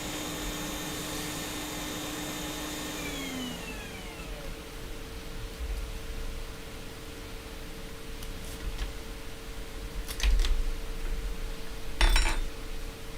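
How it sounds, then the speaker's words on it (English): A hot air gun blows with a steady whooshing hiss, its motor pitch sliding down as it winds lower, joined later by a few sharp clinks of the nozzle being handled nearby. "stop you damn hot air gun. I didn't mean to switch you on"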